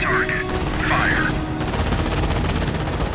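Cannon and infantry gunfire in the video game Company of Heroes, a dense continuous rattle of shots with a brief voice call-out near the start, loud and sustained throughout.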